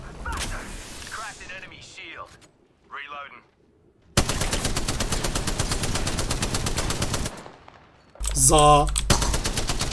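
Automatic gunfire in Apex Legends: rapid bursts and sustained volleys of shots, loud and close, broken by short gaps, with a voice briefly speaking over the opening.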